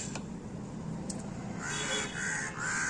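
A crow being fed fruit gives a quick series of about three harsh caws in close succession near the end, loud and close over quiet background.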